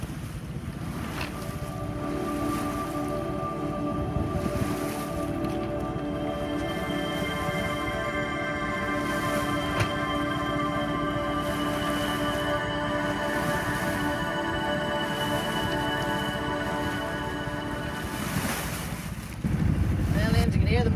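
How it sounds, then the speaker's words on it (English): Sailboat's motor droning steadily at sea in the Bay of Biscay, with a constant tonal hum. It sits under heavy wind buffeting and rushing water and waves, and the noise swells near the end. "you can hear the motor's still running"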